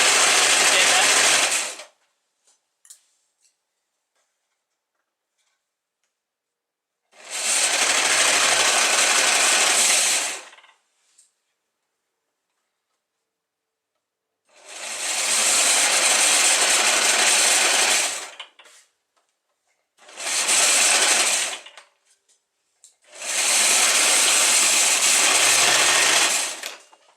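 A knitting machine (LK150/K360) carriage sews knitted A-line skirt seams in five loud, sustained whirring bursts separated by silent gaps, close up and alone.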